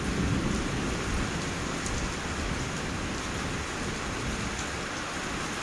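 Steady rain pours down on an elephant with a dense, continuous hiss and patter that stays even from start to finish.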